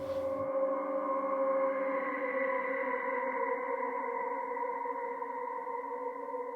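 Shimmering, glassy tones from a Verbos Multi-Delay Processor hold steady in dense layered bands, drawn out and echoing with a metallic, inharmonic quality, loud and sustained throughout.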